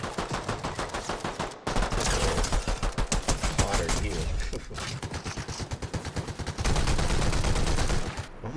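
Rapid bursts of heavy hand cannon gunfire in a video game crackle almost continuously, with brief pauses between volleys; loud and close, with a voice faintly underneath.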